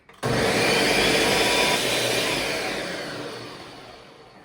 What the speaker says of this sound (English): I'm gonna give this a little bit of a blend real quick.